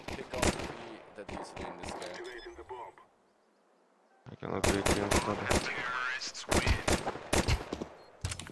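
Rapid bursts of automatic gunfire ring out in Counter-Strike on the Source 2 engine, loud and close, broken by a brief quiet pause before another sustained volley.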